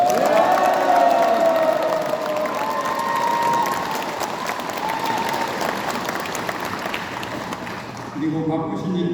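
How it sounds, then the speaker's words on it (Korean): Dense applause from an audience welcoming the provincial governor fills a hall, loud and continuous with scattered cheers, tapering slightly before fading near the end. "우리 도지사님께 힘찬 환영의 박수를 부탁드립니다."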